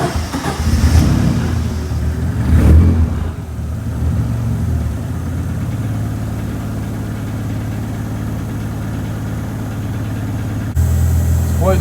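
Mk2 Scirocco 20v 1.8T AGU engine on Emerald engine management blips a couple of times, then settles into a steady, low idle, heard close and alone for several seconds.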